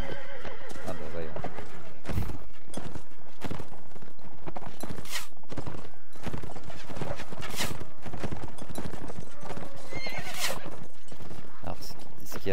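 Horses in the medieval combat game Mount & Blade Warband neigh and whinny repeatedly while hooves pound in a busy gallop, loud and close, with dense battle noise and voices mixed in.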